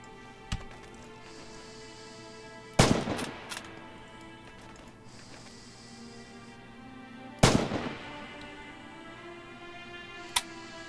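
Rifle shots in the World War II shooter Red Orchestra 2, German campaign: two sharp, loud cracks several seconds apart with short echoing tails, plus a fainter distant shot, over steady low ambient rumble.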